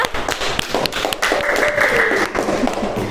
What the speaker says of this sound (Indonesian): Beri tepuk tangan untuk Mbak Mariska